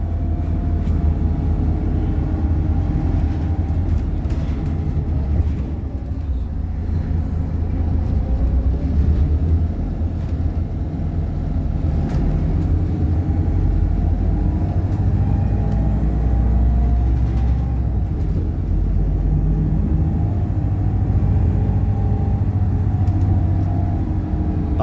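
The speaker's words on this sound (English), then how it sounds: "now we just go back to Midland Station on the bus" Inside a Transperth bus on route 326 near Midland Station, a continuous low engine rumble and road noise fill the cabin steadily throughout, with no talking.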